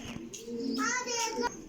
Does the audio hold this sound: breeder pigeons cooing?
yes